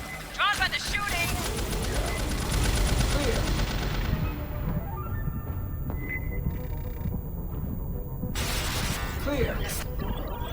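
Rapid bursts of gunfire from the video game Aliens Fireteam Elite, dense and loud through the first seconds, then thinning into scattered shots and impacts, with game voices calling out over the fighting.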